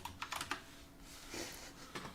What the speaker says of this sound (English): That's what I get for typing while I'm trying to listen to John.